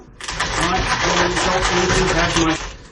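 A small hand or electric coffee grinder crushes beans at a bikepacking campsite, a steady, dense whirring grind held close and loud for nearly three seconds, fading out at the end.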